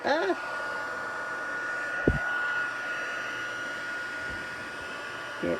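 A heat gun for card making blows hot air in a continuous, even whoosh, with brief knocks and faint speech.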